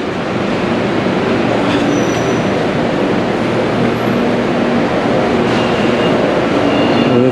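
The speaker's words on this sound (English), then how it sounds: "And there's the train going the other way." A Bangkok BTS Skytrain rumbles loudly and continuously through a station, with rolling wheel noise and faint metallic squeals, no voices.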